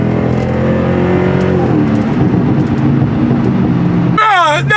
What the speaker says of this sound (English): this thing is loud as fuck. It literally sounds like somebody shooting